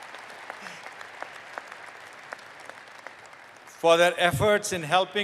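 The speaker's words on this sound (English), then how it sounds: "let's give them a huge round of applause for their efforts" Graduation ceremony crowd in an arena applauds graduates, a soft scattered clapping in the background, before a loud voice speaks over it near the end.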